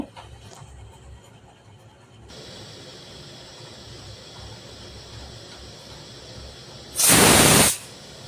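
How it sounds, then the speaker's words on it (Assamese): A pressure cooker whistles while rice cooks: steady kitchen hiss and steam, then one loud, sharp whistle near the end that lasts under a second and stops abruptly. "আৰু এয়া হুইচেল আহিলে, হুইচেল অহাৰ পিছত আমাৰ ভাত হৈ গ'ল।"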